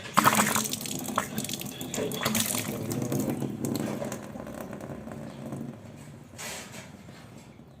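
Steady running water hisses and splashes close by through a repaired PVC pipe, a continuous gush that eases slightly toward the end.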